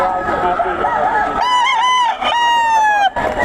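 A stag gamefowl of the Pumpkin sweater line crows twice in clear succession, close and loud, with a rooster's drawn-out calls over background chatter and people talking at a bird market.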